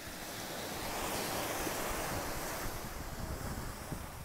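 Ocean surf at Chiquita Beach in Sosua, Dominican Republic, a steady wash of breaking waves close by, mixed with wind buffeting the microphone.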